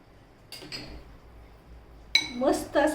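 A spoon clinking against a bowl while yogurt is mixed into a cucumber salad, a few bright metallic clinks early on, then a louder cluster of ringing taps near the end.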